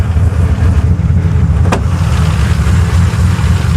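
A truck engine idles with a steady low rumble while its fuel pump is off, loud and close, with a brief click partway through.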